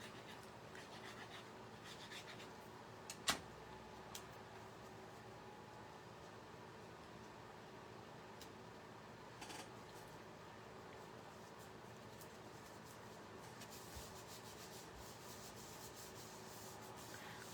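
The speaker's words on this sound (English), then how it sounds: "So it's better to rub from the other side." A glued layer of an autumn-themed handmade card is rubbed firmly from the back, making a faint, steady, continuous scraping rub that runs throughout with only a couple of brief tiny clicks and no talking.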